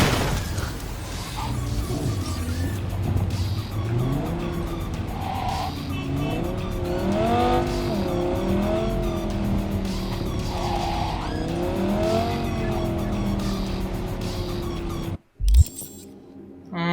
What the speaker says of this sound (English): That's some cool looking car.